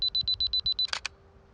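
A camera's 2-second self-timer beeps rapidly about nine times in a steady, even rhythm, then the shutter clicks twice, close and clear, outdoors on a rocky edge.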